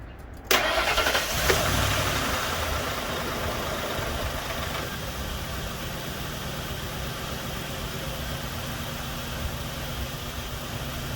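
A 2004 Ford Econoline van engine cranks briefly, catches and then settles into a steady, even idle that runs on alone at moderate loudness with no talking.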